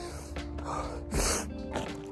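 A runner gasps and snorts for breath after a two-mile run in cold weather, with a few sharp, close inhales and exhales over about two seconds.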